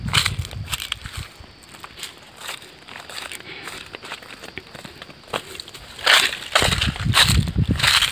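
Irrigation water in a paddy field sloshes back and forth along the field edges, with faint, scattered splashing that swells into louder wet churning bursts near the end.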